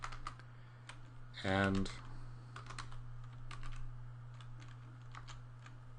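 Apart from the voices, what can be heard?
typing code on a computer keyboard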